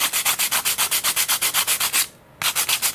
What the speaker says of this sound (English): I'm going to sand a little bit off the back side of this frame too.